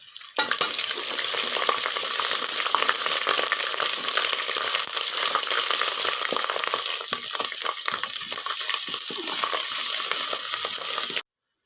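Steady, loud sizzling of ginger and garlic frying with browned onions in a pan, continuous crackle and hiss with faint stirring scrapes throughout, no talking.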